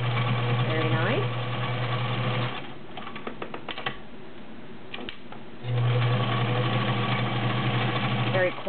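A vintage White Model 764 sewing machine stitching through seven layers of real denim runs with a close, steady whir. It stops for about three seconds, leaving light clicks, then starts again and hums on smoothly.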